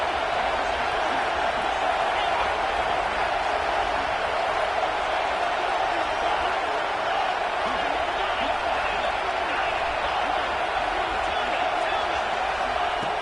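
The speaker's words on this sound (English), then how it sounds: "This crowd is trying to inspire this defense to make a big red zone stop." A football stadium crowd roars steadily through a red zone defensive stand, a dense, continuous wall of cheering and noise that holds at one level throughout.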